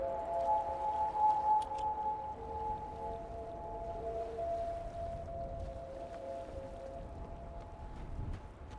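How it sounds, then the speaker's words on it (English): Sustained, shimmering tones from the video game Myst ring and overlap like resonating crystals, steady and moderately loud over a low ambient hum, with no talking. "Sounds like resonating crystals or something"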